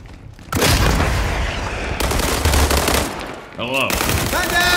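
Dense sustained gunfire from a World War 3 video game battle, loud bursts of automatic fire and booms running almost continuously, with a brief lull near the end before more shooting.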